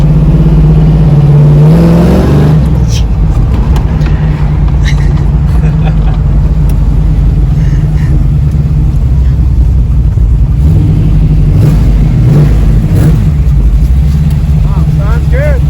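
A 1973 Camaro Z28 engine pulls hard under acceleration while driving, a loud, constant, deep roar filling the whole stretch, heard from inside the car with road and wind noise.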